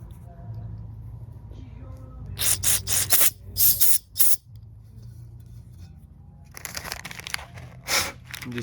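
Short sharp hissing bursts of carb cleaner sprayed into the pilot port of a 1998-2001 Arctic Cat 300 Mikuni carburetor, several quick blasts in two clusters over a low steady hum.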